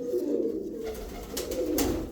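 A pigeon, a purebred bird from a friend, coos up close: two low, rolling, throaty coos in quick succession, loud and clear over faint background noise.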